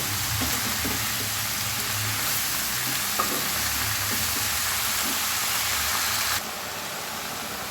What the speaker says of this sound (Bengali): এবার বাঁধাকপি আমি 4-5 মিনিট খুব ভালোভাবে কষিয়ে নেব।